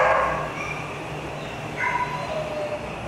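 A Labrador puppy at an animal shelter gives a few high, thin yips and whimpers up close, short and squeaky against a quiet room.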